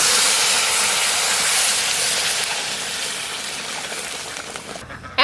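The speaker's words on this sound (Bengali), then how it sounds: "এখন দিয়ে দেবো জল।" Water poured into a hot pot of hilsa pulao gives a loud, steady hissing sizzle that fades slightly, then cuts off near the end.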